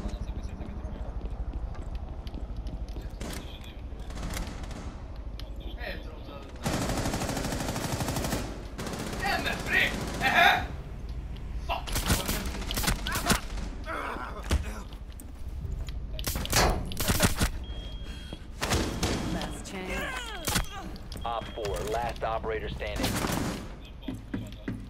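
Gunfire in Rainbow Six Siege, with bursts of automatic shots and single cracks scattered across a tense firefight, loud and close, broken by pauses and heard under excited talk.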